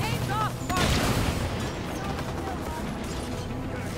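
Enemy gunfire in Halo 5: Guardians, with bursts of shots and mechanical weapon sounds over game background noise, while a player talks over the action.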